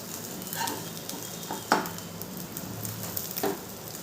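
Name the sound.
spatula cutting an omelette into three in a pan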